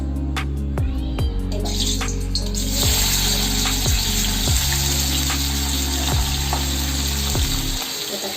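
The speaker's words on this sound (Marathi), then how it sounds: "आता मी तेल तापायला ठेवलं ह्याच्यामध्ये आता आपण त्याच्यामध्ये कांदा टाकूया" Loud, steady sizzling of onion frying in hot oil, with occasional soft thumps of stirring; no voices.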